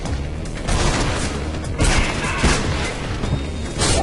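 Gunfire erupts in the first-person parkour game Mirror's Edge as a run of sharp booming shots and crashes that recur through a dense, noisy game soundscape, loud and close.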